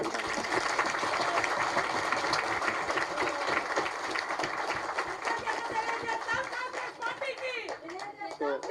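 Applause from a crowd at a political meeting of SC community leaders with Chief Minister Revanth Reddy, broad steady clapping that fills the clip and tapers slightly near the end, with chatter mixed in.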